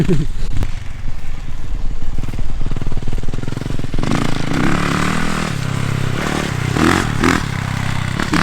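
Yamaha YZ450F dirt bike being ridden outdoors by a young rider, its engine droning steadily and loud throughout, with throttle blips and uneven revving toward the end.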